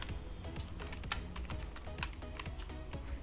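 Typing on a computer keyboard while writing a C program in Turbo C, a rapid run of close, light key clicks in an uneven rhythm over a faint steady background hum.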